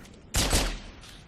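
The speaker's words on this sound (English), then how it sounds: "I'm going to try to draw him out with some pistol fire" A single pistol shot fired at a Jackal sniper in Halo 3 ODST, a sharp loud crack with a short decaying tail in an otherwise quiet moment.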